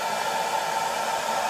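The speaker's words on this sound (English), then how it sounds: "But I do like the assistance of the blow dryer, so it takes the tackiness out." A handheld blow dryer runs steadily close by with an even, loud whooshing roar of fan and rushing air that holds unchanged throughout, with no voices.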